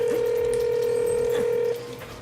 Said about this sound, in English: Computer, dial Chairman Drek. Dialing Chairman Drek.